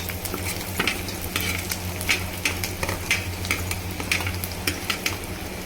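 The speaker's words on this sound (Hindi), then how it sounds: "अब मैं डाल रही हूँ अदरक और लहसुन, हरी मिर्च," Ginger, garlic and green chilies frying in hot oil in a kadhai, a steady sizzle broken by regular clinking stirs of a spoon against the pan, close and fairly loud.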